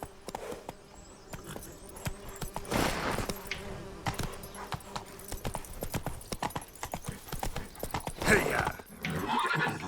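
Horse hooves clip-clopping at a walk in the video game The Witcher 3, a steady run of close, sharp hoofbeats with insects buzzing and a brief whinny.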